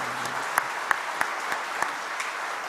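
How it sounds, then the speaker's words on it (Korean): A church congregation at a Sunday worship service breaks into steady applause, a sustained wash of clapping with a few sharper individual claps standing out. "다음 세대를 축복하는 박수 한번 드릴까요?"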